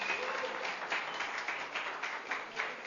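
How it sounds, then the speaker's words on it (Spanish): Steady applause from a large church congregation, dense and continuous for a few seconds, with faint voices mixed in. "¿Qué tal si le damos un fuerte aplauso al Señor por la vida de todos ellos?"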